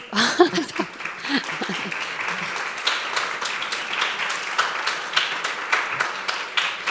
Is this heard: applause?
yes